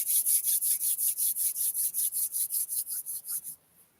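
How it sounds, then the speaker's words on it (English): Two hands rub briskly together in a fast, even rhythm of about a dozen-plus strokes, close and crisp, then stop abruptly. "So rub your hands together."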